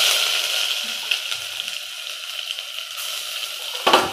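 Crushed ginger and garlic hit hot oil already holding raw plantain and chilies for a buttermilk plantain curry, giving a steady, close sizzling hiss that ends with a brief clatter of a utensil in the pan.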